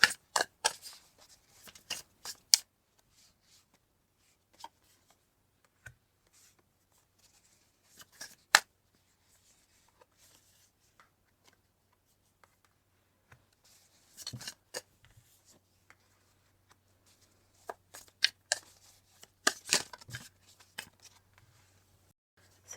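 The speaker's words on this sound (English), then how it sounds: "I'm going to pull some tarot cards with those." Tarot cards are shuffled and drawn on a table, producing scattered quiet flicks, slaps and riffling bursts separated by near-silent pauses.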